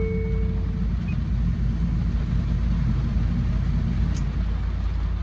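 A 1990s Land Rover Discovery Series 2 4x4 idles with a steady, even low rumble that holds unchanged from start to finish, close by and with no voices over it.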